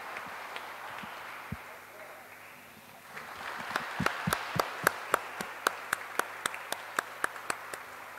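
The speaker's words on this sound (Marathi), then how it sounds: "पुन्हा टाळ्या" An award ceremony audience breaks into applause after a speech, starting as scattered claps and building into a steady run of sharp, rhythmic clapping at moderate distance, with faint murmuring voices underneath.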